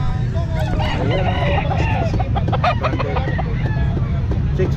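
Gamefowl roosters crowing and clucking at a pet market in Calumpit, several birds calling over a steady crowd murmur while someone talks.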